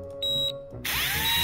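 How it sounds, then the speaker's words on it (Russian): A surgical drill in a surgery video game whines up, a high steady tone followed by a louder broadband grinding burst as it bites in, brief and close. "Берем опять дрель."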